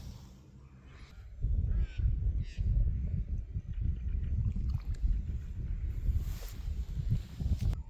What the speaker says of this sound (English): that cool little bird